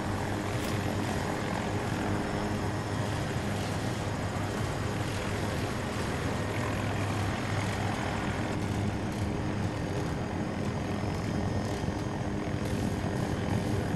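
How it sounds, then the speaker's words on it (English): An enemy helicopter flies in a military video game, its rotor and engine giving a steady, continuous droning whir that stays at even volume throughout, with no talk heard over it. "Oh, they have a chopper as well."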